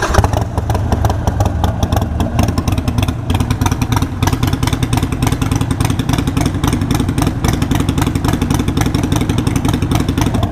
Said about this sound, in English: So let's throw it in neutral and see if it'll start up.